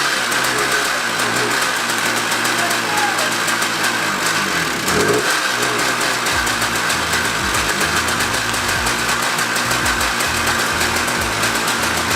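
A restored 1979 Honda Odyssey FL250 two-stroke engine, running a little rich, idles with a steady, buzzy drone and slight uneven knocking throughout, close and fairly loud, with a brief louder blip midway.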